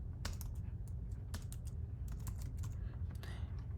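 Someone types a git command on a computer keyboard, giving a run of quick, uneven keystroke clicks. The typing is soft and close, with no talk over it.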